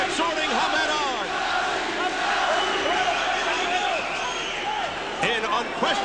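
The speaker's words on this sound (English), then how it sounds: "The crowd exhorting Hamed on." A boxing arena crowd roars and cheers on Prince Naseem Hamed late in the second round, a dense sustained wall of shouting with whistles and rising yells, loud and continuous throughout.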